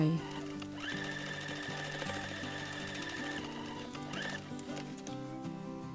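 A sewing machine stitches the edge of a cloth face mask, running in a steady, fast mechanical chatter at moderate volume, with tonal sounds layered over it.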